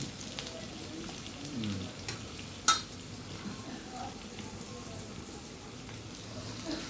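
Bitter gourd and potato bhaji frying in a pan, a steady low sizzle with soft stirring scrapes throughout and one sharp clink of a utensil partway through, with no talking.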